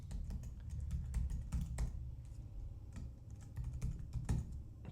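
Steady, rapid keystrokes on a computer keyboard as a database name is typed into a WordPress config file, with clustered clicks and brief pauses. The clicks are fairly faint and close, with no talking.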